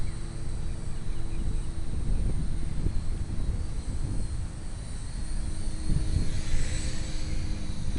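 Blade mQX radio-controlled quadcopter flying outdoors in rising wind, a steady whirring rotor drone held at a constant level throughout, with wind buffeting the microphone.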